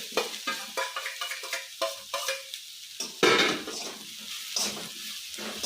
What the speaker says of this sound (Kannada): ನಂತರ ಬೇಯಿಸ್ಕೊಂಡಿದ್ದೀವಲ್ಲ ಆಲೂಗಡ್ಡೆ ಹಾಕೊಂತ ಇದ್ದೀನಿ ನೋಡಿ